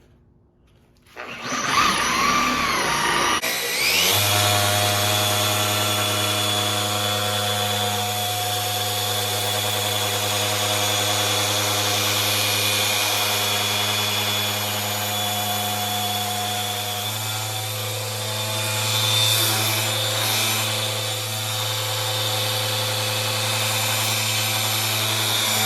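A Flex 3401 dual-action polisher starts up and runs while detailing an S2000, settling into a loud, continuous motor whine with a low droning hum that shifts pitch slightly partway through.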